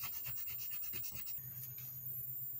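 Soft, steady scratchy rubbing as a decoration is rubbed onto a paper booklet, repeated back-and-forth strokes close up that fade to a quieter scrape, with no voices.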